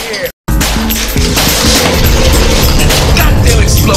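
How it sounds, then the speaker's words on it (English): A video game explosion bursts in loud and close after a brief silence, then rumbles on in a dense, sustained crash with a rough low-end roar. "Goddamn explosion, man!"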